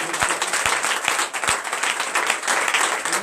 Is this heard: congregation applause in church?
yes